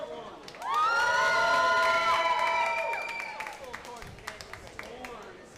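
Spectators at a robot fighting championship burst into loud cheering and shouting that peaks early, then fades into scattered clapping and applause.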